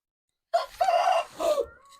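A rooster crows once, close and loud, a drawn-out call in several strained segments that breaks off after about a second and a half, with silence before it.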